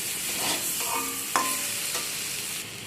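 Boiled potatoes with spices fry in a pan under a steady, close sizzle, with several soft scraping stirs and one sharper clink of the spoon midway.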